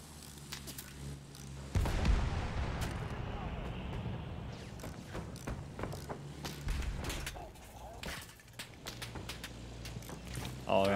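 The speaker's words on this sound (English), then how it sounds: "they are shooting like fucking nutcases" Gunfire from Battlefield 1, with an attack plane and bomber in play, runs as a dense, continuous clatter of shots and mechanical noise beneath a voice. A loud burst opens it, another ends it, and sharp individual cracks come through in between.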